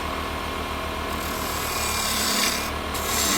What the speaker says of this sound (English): I'm going to be using a spindle gouge.